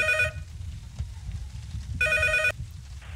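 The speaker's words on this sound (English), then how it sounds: "After all this time, the phone finally rings." An old-style telephone rings in the horror game Unreal PT, two bright electronic bursts separated by a pause of about a second and a half, over a low ambient hum.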